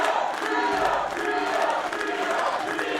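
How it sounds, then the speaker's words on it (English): A crowd at a pro wrestling title-fight event chants in rhythmic waves for rival wrestlers, a loud, dense mass of voices filling the arena without a break. "I hear chants for Gio, I hear chants for Martyr."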